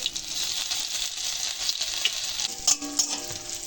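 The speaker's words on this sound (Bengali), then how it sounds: "এতে আমি আদাকে গ্রেট করে দিয়ে দিচ্ছি" Grated ginger fries in mustard oil over a low flame, a soft continuous sizzle with spoon stirring and a few sharper clinks near the end, close up and free of speech.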